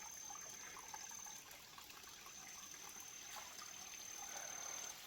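Soft, continuous trickling water from a mountain stream runs steadily at a distance, a quiet bright hiss with no voices.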